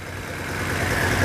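A Porsche 928 engine with vacuum leaks idles roughly nearby, a low, steady rumble that slowly swells in loudness, heard alone.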